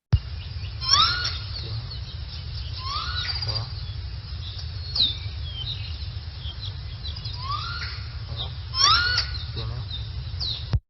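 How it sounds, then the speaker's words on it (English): Recorded broadcast calls of wild alala, the Hawaiian crow, played back: a few harsh, rising calls spaced apart over a steady low hum, with the loudest bursts near the start and toward the end. "I'll play a couple of these lost broadcast calls from the wild birds to the captive birds."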